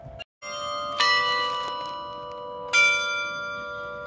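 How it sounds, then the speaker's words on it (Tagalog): Church bells ring out a tune, each bell sounding its own note, with clear sustained tones and fresh strikes near the one-second and three-second marks ringing over a soft ambient wash. "Ayan pala yung mga bell nila, oh, may tune. Bawat isang bell."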